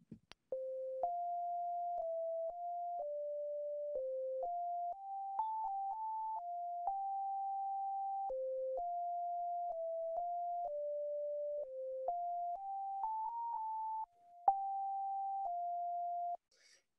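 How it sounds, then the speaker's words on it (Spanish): A melody of pure sine tones, one clean steady pitch at a time, steps through the theme of the fourth movement of Brahms' First Symphony. The notes are sustained and evenly loud, with no harmonics, no voices and no other sounds. "Esta es una melodía que suenan solamente los tonos puros,"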